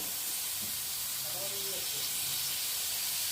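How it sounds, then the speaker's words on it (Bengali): Potatoes fry in a little oil in a pan, giving a steady sizzling hiss that holds at moderate loudness, with faint sounds of a voice and handling underneath. "অল্প তেলেই ভাজা হয়ে যায় আলু"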